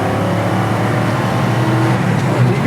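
A 1964 El Camino pulls hard in second gear, its engine a loud, steady, throaty roar heard from inside the car.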